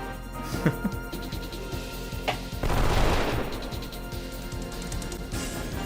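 Gunshots in the role-playing video game Wild Arms 3 sound amid game music and effects, with a denser burst of blasts near the middle of the clip.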